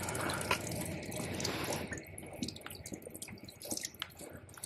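Water running and dripping at a drinking fountain in a university engineering building, a steady splashing flow that stays fairly loud throughout, with small drips and spatters on top.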